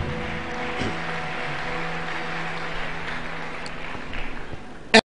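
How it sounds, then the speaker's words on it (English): A church congregation claps hands in a steady, sustained wash of applause that holds evenly for several seconds and ends with a sharp, sudden knock. "Clap those hands one more time and take your seat."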